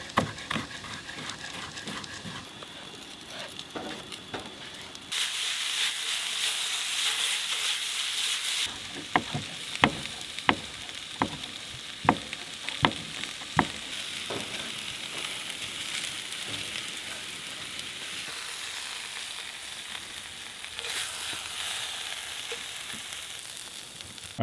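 Food frying in a pan at a campsite in North Cascades National Park, with steady sizzling and a series of sharp clinks and scrapes from utensils.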